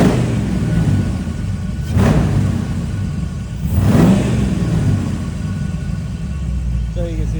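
Jimmy's RW1 rear steer engine held at a steady idle hum, lifted twice to a brief high idle by pulling the throttle cable, each rise swelling and settling back, loud and close.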